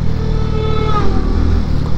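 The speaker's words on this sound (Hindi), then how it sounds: "हाईवे पे निकला हूँ और बाइक भी हाई पर राइड कर रहा हूँ।" Motorcycle ridden fast on a highway, a loud close engine drone with a rising rev partway through, steady wind-rushed roar throughout and no talking.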